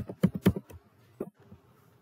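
Keys clatter on a computer keyboard as code is typed, a quick burst of close, crisp taps followed by a few lighter, spaced presses.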